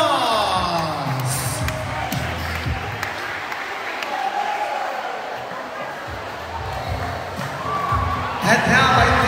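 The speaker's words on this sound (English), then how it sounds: "Let's give him a round of applause" An audience applauds and cheers for the chairman of the judges at a school trashion show pageant opening, a steady wash of clapping and crowd noise with voices mixed in.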